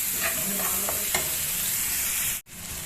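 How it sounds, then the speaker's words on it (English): Garlic, coriander and green chilies roast in hot oil in a pan, with a steady close sizzle and a few soft stirring scrapes, then a brief dip to quiet near the end. "roast the garlic, coriander and green chilies so that you don't get that raw garlic taste in your mouth"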